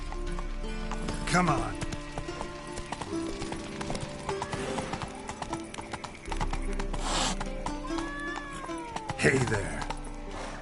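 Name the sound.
horse Roach galloping in video game The Witcher 3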